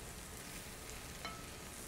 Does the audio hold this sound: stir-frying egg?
yes